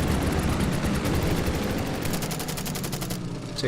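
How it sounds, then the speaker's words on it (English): Fighter plane machine guns strafing a Stuka in Order of Battle, a rapid, loud, evenly spaced rattle of shots that runs for a few seconds before cutting off. "The other fighter will also take a shot at the Stuka."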